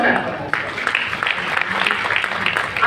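A seated audience applauds steadily throughout a welcome at the Zoological Survey of India Foundation Day ceremony, a dense even patter with voices mixed in.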